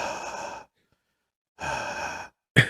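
A person imitates heavy breathing as if on a phone, making two long, loud, close breaths separated by a short silence, then a brief sharp intake at the end.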